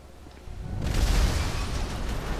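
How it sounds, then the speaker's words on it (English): A broad burst of explosive-ammo blasts in GTA V, a deep rumbling boom that swells after a quiet start and rolls on as a sustained roar, with no talk over it. "when it contacts, it blows up like a rocket."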